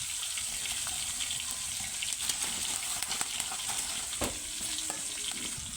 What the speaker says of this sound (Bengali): আর এই যে এখানে আমি মাছগুলো ভাজার জন্য দিয়ে দিচ্ছি কড়ার মাঝে